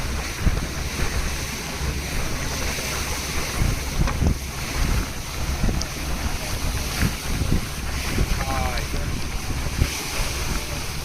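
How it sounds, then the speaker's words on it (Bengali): Light waves of the Mediterranean Sea on the Amalfi Coast in Italy, with a cool breeze, give a steady wash of surf under constant wind rumbling against the microphone. Faint boat noise and scattered voices sit in the background. "একদিকে ভূমধ্যসাগরের হালকা ঢেউ আর মৃদুমন্দ ঠান্ডা বাতাস"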